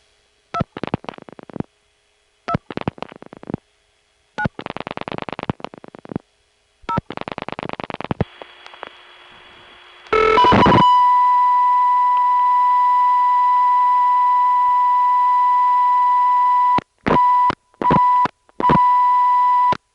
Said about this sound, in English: This is the carrier noise from Monroe to Highland Mills.